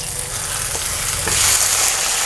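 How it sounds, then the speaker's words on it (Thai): Chopped chili and garlic sizzle and crackle in hot oil in a Thai home kitchen, a close, steady frying hiss that swells slightly toward the end with no voices. "อันนี้พริกกระเทียมค่ะ เจียวให้มันหอมก่อน"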